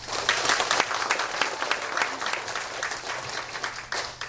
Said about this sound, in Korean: 자, 다시 한번 그런 박수 부탁드리겠습니다